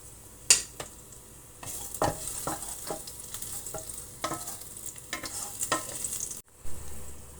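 Garlic frying in a little cooking oil for garlic fried rice, a soft sizzle with sharp clinks and scraping strokes of a spatula, then a sudden cut near the end.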